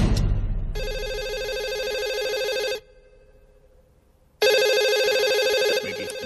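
An electronic telephone ringtone sounds in two long, loud bursts separated by a short quieter gap, with no talking.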